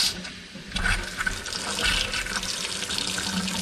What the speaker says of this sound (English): So first I'm going to open the cold water